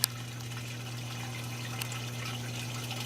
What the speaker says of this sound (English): You can see the water returning to my reservoir.